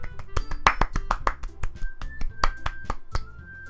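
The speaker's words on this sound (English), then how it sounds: "I'm the first to start applauding. Everyone joins me afterwards and we give Yuri the recognition she deserves." Scattered claps sound in a small, uneven group, a thin applause sound effect from Doki Doki Literature Club with a few sharp, close hand claps over faint musical tones.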